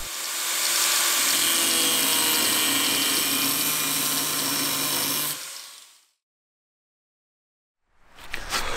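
An angle grinder powered from a Jackery 500 portable power station whines loud and steady for about five seconds, then spins down into silence before another burst starts near the end.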